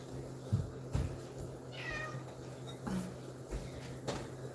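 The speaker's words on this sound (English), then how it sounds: "My cat sounds like Gary from SpongeBob." A pet cat meows in a drawn-out, wavering call mid-clip, close and fairly quiet, with soft thumps and shuffling around it and no speech.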